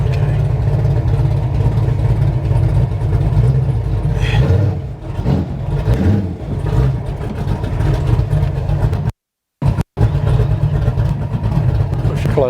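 A 1969 Plymouth Road Runner with a 660-horsepower Mopar engine and manual clutch runs loud and close, a continuous heavy low rumble that briefly cuts out near the end.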